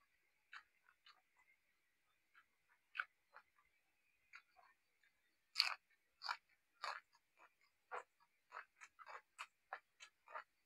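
Someone chews edible flowers up close, a series of soft crisp bites and crunches spaced irregularly, growing busier toward the end with no talk.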